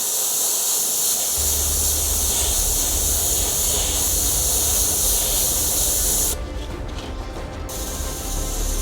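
An airbrush sprays a light dusting of paint in spider shapes onto eyeball-themed artwork, giving a steady, close hiss with a mechanical edge that pauses briefly near the end before resuming.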